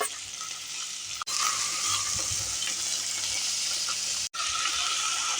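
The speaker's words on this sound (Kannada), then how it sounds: "ಇವಾಗ ತರಕಾರಿ ಎಲ್ಲ ಚೆನ್ನಾಗಿ ಫ್ರೈ ಆಗಿ ಎಣ್ಣೆಯಲ್ಲಿ ಇವಾಗ ಟೊಮೆಟೊ ಹಾಕ್ತಾಯಿದ್ದೀನಿ" Tomato tipped into vegetables already frying in oil in a pan for vegetable pulao, giving a steady, loud sizzle with stirring that continues throughout and cuts out briefly twice.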